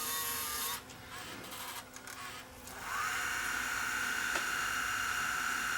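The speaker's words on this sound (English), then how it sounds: "Let's rewind the tape." A Sony EVC3 8mm VCR rewinds a tape: after a brief mechanical shuffle the transport settles into a steady high whirring hiss that holds evenly to the end, close and moderately quiet, with no voices.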